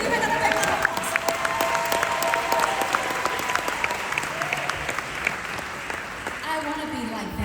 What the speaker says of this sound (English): Give me another big round of applause.